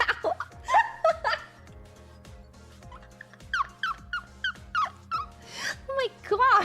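A dog barks behind a door in a home, a series of sharp yelps and whimpers muffled at a middle distance, while a person laughs and chuckles nearby.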